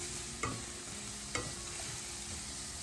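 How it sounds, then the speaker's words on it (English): Lamb chop mixture with garlic and herbs sautéing in olive oil, a soft continuous sizzle with two brief sharp clicks of a utensil against the pan. "I'm just gonna let this saute and get really nice and caramelized"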